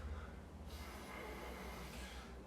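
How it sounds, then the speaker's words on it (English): A single deep inhale during a yoga flow, a soft close breath drawn in through the nose, rising in airy hiss partway through and holding to the end, alone without talk. "Deep breath, inhale."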